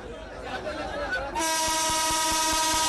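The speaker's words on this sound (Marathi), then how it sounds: "झेंडा दाखवून ही रेल्वे जी आहे ती सध्या सुरू होते" A passenger train departs on the Beed–Ahilyanagar line at its inaugural flag-off. After about a second of crowd murmur, a loud, sustained horn blares and holds, while steady low clunks thud beneath it.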